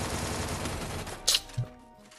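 Rapid Thompson submachine gun fire in a shooter game, a continuous close burst of shots that stops abruptly, followed by a couple of isolated impacts.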